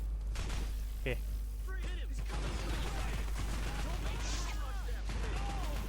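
Shotgun blasts from the POSTAL Redux video game, an automatic shotgun firing bursts of loud, sharp shots amid other game clatter and gunfire, with someone talking over the action.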